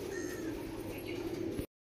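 A Kalanga pigeon, a KGN-blood bird, cooing close by with soft, low, rounded murmurs that run steadily for under two seconds before cutting off abruptly.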